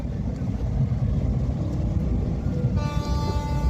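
A train at Barabhum railway station in Purulia rumbles loudly and continuously, with a tonal horn-like hum rising near the end.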